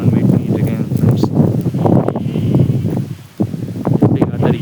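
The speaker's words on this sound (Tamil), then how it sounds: "எப்படி காற்றடிக்குதுன்னு பாருங்க." Gusty wind sweeps through a village on a cloudy evening before rain, a steady rough roar buffeting close by with brief lulls.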